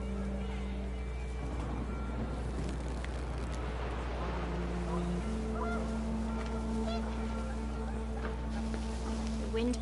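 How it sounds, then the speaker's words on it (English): Panicked geese honk in What Remains of Edith Finch as wind picks up, a flurry of overlapping cries swelling in the middle over a steady rumble of wind and a low drone, then thinning out. "panicked geese appeared and quickly went"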